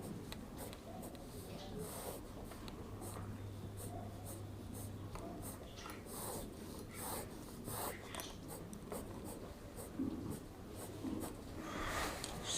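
Pen or chalk writing out set notation for an 11th-class maths lesson, a steady run of close scratchy strokes and taps, with faint talk now and then.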